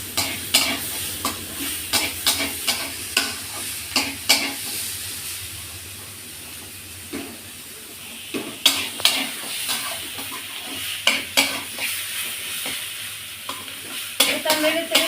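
Taro stalks and jackfruit seeds sizzle steadily in a hot pan while a utensil stirs and scrapes in repeated quick bursts, close and fairly loud.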